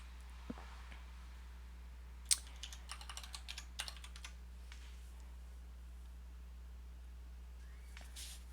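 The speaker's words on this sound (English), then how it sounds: "Okay, so let's type that." Short runs of key clicks from a computer keyboard, quiet and close, scattered in a brief flurry against a steady low electrical hum.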